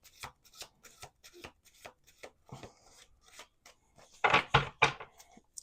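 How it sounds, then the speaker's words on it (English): Cards riffled and shuffled in quick bursts of papery flutters, close up, ending in a louder run of rapid shuffles. "We're going to do 2 more shuffles."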